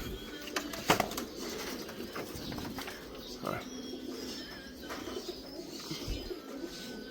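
Pigeons in a loft coo softly in the background, low and fairly faint, with occasional rustles, knocks and wing movements scattered through.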